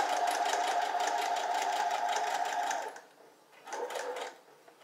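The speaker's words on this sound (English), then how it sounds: "put the foot back down, and then sew straight again" A sewing machine stitches scrap fabric steadily in a close, loud, even run, then stops briefly and starts again for a short second burst.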